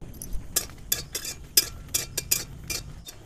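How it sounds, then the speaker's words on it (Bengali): Dry red chillies, six or seven of them, frying in hot white oil in a wok, heard as a run of sharp metallic clinks and scrapes from a utensil at a steady irregular rhythm over a faint crackle, close by with no talking. "তেলটা গরম হয়ে গেছে, এখানে আমি 6 থেকে 7টা শুকনো লঙ্কা ভেজে নিচ্ছি"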